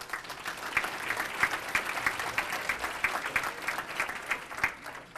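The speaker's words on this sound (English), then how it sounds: "So please give yourselves a round of applause." An audience at a parent engagement kickoff event claps in sustained applause, a dense patter of many hands that holds steady and fairly loud for several seconds.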